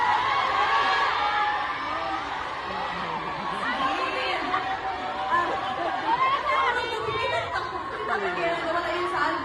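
A lively concert crowd shouts song requests over one another, with whoops and scattered cheers rising above a dense, continuous wall of voices.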